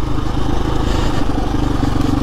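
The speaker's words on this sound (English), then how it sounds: "enduro bike." An off-road enduro motorcycle being ridden, its engine a loud, steady throbbing drone with a rough, rattling texture, close and with no talk.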